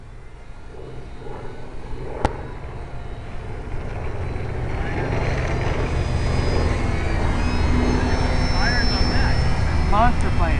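A large radio-controlled model airplane flies overhead at a lake flying field: an engine drone swells steadily louder as it approaches, with people chatting and calling out over it.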